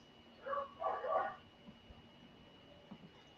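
Dogs barking somewhere in the background, a few short barks grouped between roughly half a second and one and a half seconds in, faint and distant under a quiet room tone.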